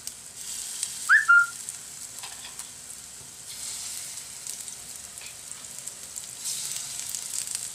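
Banana and pandan leaf kuzhi paniyaram cooking in coconut oil over a lowered flame: a soft, steady background sizzle, with a brief whistle-like chirp near the start and no talking.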